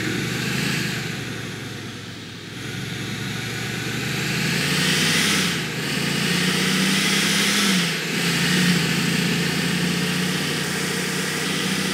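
A car driving in the game GTA 4, its engine a steady mid-pitched hum with a slight rise and fall in revs and two brief dips, loud and continuous with no talk.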